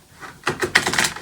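Quick, crisp papery riffling of tarot cards, a short burst of rapid flicks and slaps close by, with no talking.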